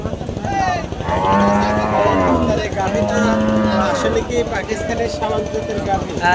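Dairy cows with calves mooing at the Bamundi cattle market, long drawn-out moos close and loud, overlapping amid busy crowd chatter and market noise.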